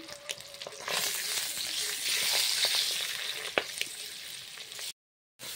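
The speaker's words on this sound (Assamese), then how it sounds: "এয়া মই ডিমখিনি ভাজি আছোঁ ডিমখিনি ৰঙা হোৱালৈকে ভাজি লৈছোঁ" Peeled boiled eggs frying in oil until browned, a loud continuous crackling sizzle with scattered pops and stirring, ending in a brief break, no talking.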